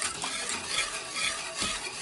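A steady scraping swish of a spoon stirring custard cream for a Napoleon cake in a saucepan, with soft clinks and a faint sizzling hiss throughout.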